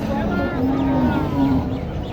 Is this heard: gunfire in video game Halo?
no